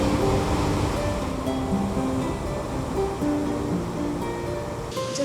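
Steady wash of ocean surf rolling onto a beach with sea stacks at sunset, a continuous broad roar with gentle swells in loudness and no voices.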